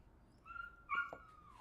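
A puppy hidden underneath something whimpers softly, two thin high whines with a brief yip between them, faint against a quiet room.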